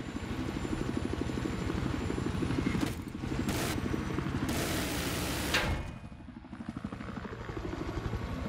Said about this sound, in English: let's have a look in the helicopter